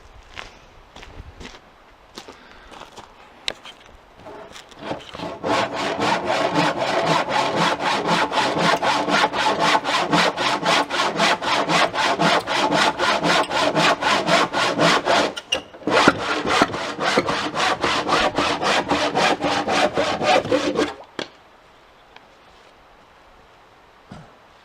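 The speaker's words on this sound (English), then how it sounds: "I had to go in the house and get a handsaw." Wood being cut by hand with a handsaw: after a few scattered knocks, rapid, steady back-and-forth strokes rasp loudly for about fifteen seconds, pause briefly, then resume before stopping.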